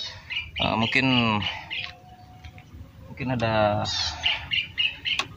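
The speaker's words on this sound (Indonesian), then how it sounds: "Katanya ada burung yang berkicau" Birds calling in a rainforest on a rainy day, with bursts of chirpy, squawking calls twice under and between a man's nearby speech.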